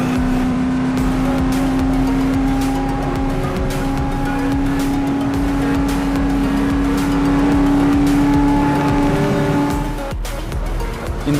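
Traffic cars drive through the Car Parking Multiplayer video game with a steady synthetic engine drone and a constant tonal hum, plus brief tire noises, continuous and fairly loud.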